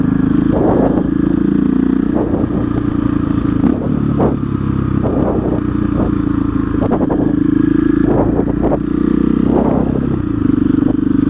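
A 2006 KTM 660 SMC single-cylinder motorcycle thumps along loudly and close, its throbbing engine rising and falling in pitch with repeated clattering bursts as the rider rolls the throttle on and off.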